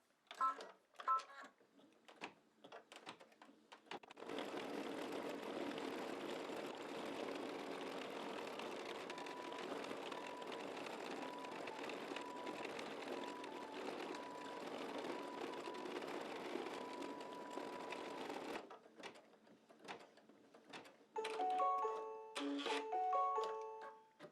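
An embroidery machine runs a satin stitch to seal the edges of an umbrella appliqué on an in-the-hoop mug rug, a steady mechanical whir of about fifteen seconds framed by short start and stop sounds and a few beeps.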